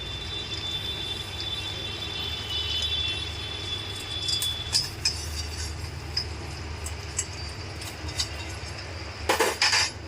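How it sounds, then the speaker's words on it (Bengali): Vermicelli slowly added to water in a pot while being stirred, heard as a low burner rumble with light metal clinks of a spoon against the pot and a brief cluster of scrapes near the end. "এবারে আমি আস্তে আস্তে কিন্তু এক হাতে নাড়াচ্ছি এক হাতে অল্প অল্প করে সিমাইকে ছেড়ে দিচ্ছি"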